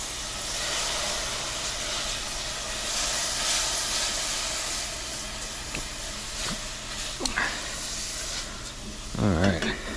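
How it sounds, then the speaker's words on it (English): A hot pan is deglazed for a vegan Cuban dish, giving a steady, close steam hiss that fills the whole stretch, with a few faint clinks and a brief scrape near the end. "deglaze a little."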